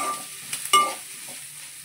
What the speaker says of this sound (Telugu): ఉల్లిపాయలు కూడా మంచిగా ఫ్రై కావాలి.